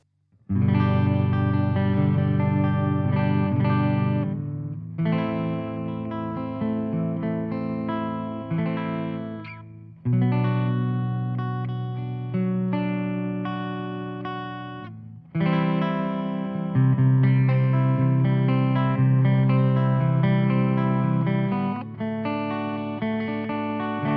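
Electric guitar through a K100H amp with a touch of reverb, playing sustained chords in several strummed phrases, each ringing out before the next.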